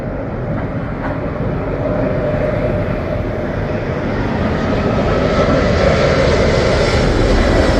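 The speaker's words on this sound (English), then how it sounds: "Airbus A350" Virgin Atlantic Airbus A350 landing at Heathrow, a loud continuous jet engine roar with broad rumbling noise that holds steady and swells slightly, no voices.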